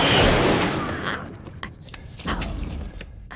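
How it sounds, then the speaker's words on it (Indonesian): In a film scene, a pistol is fired at a man's leg. A loud burst opens, then sharp cracks and thuds follow over a fading rumble, with no clear speech. "Jack dengan sengaja menembakkan kaki Harry"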